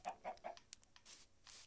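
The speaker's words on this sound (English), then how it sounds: "Let's even get these chickens to follow us." Minecraft chickens cluck in a quick run of three close, bright clucks, followed by fainter scattered game sounds, with no voices.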